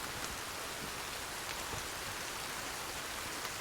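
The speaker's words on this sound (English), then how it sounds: "This isn't good. It's raining." Steady rain falls in Sons of the Forest, a constant hissing patter on surfaces with no voices over it.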